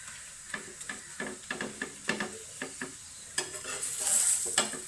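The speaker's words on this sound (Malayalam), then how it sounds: "നമുക്ക് ഈ സൈഡിൽ കൂടി കുറച്ച് എണ്ണ ഇട്ട് കൊടുക്കാം." A chapati cooks with a little oil on a hot pan, giving a steady sizzle marked by repeated soft clinks and scrapes from stirring or turning. The sizzle grows louder and brighter toward the end, and no one speaks.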